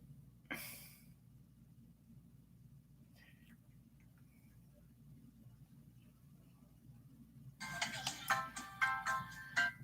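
A phone rings close by in a quiet room, a short bright electronic ringtone burst at first and then a louder tonal ringtone phrase near the end.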